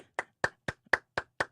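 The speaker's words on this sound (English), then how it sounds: "Clapping for her." Six sharp, evenly spaced hand claps ring out close and alone at a brisk steady rhythm, crisp and dry with no other sound between them.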